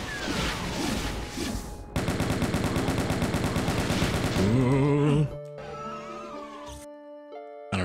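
A chain gun fires in Doom 2, a long rapid burst of evenly spaced shots, followed by monster growls and game effect sounds as the firing stops, loud and close with no talk.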